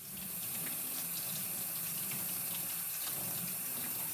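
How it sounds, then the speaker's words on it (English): A steady stream of hot tap water runs continuously into a sink while wool-wrapped soap is rinsed, a constant hiss and splash throughout with no voices. "I'm going to take it over to the sink and I'm going to rinse it again"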